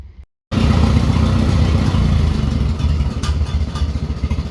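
A 1940 Farmall H tractor with an M&W 9-speed setup runs steadily after a brief dropout, a loud, close, continuous engine clatter with a low throbbing rhythm and no talk.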